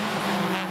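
Honda Integra Type R DC2 race cars launching at the start of a five-lap race, a brief steady burst of loud revving engine roar.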